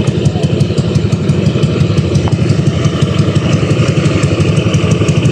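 A steady motorcycle engine idle rumbles continuously with a dense low throb and faint rattling, close by and loud, no talking.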